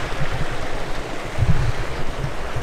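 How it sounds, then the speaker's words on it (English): A small geyser in the middle of town at Soda Springs, Idaho, gives off a steady, rushing hiss of water, broadband and continuous, with a few louder gurgling surges along the way. "take a look at this little geyser in the middle of town"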